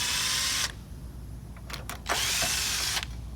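A 10 mm wrench loosening the battery terminal bolts on a 2017-2022 Honda CR-V, heard as two close, harsh bursts of tool noise separated by a quieter pause with a few brief clicks.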